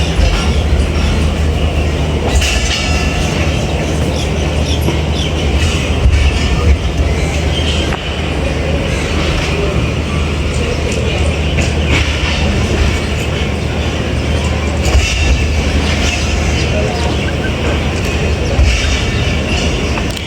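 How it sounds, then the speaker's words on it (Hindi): Pakistani 8 Down Tezgam Express train pulling out of Wazirabad Junction, with a steady loud rumble of wheels on rails and faint clickety-clack running throughout, heard from on board. "तो 2 से 3 मिनट रुकने के बाद डिपार्चर हो रहा है 8 डाउन तेज़गाम का वज़ीराबाद जंक्शन से"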